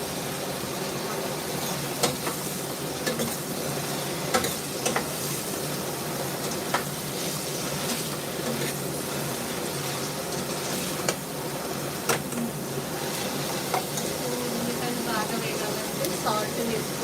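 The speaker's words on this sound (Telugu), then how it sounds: "ఇంకా వెల్లుల్లిపాయలు, ఉల్లిపాయలు వేసి వేసాను. సో బాగా వేస్తాం." Garlic and onions fry in a pan with mustard seeds and cumin, a steady soft sizzle running throughout with occasional clinks of stirring, while a person talks over it.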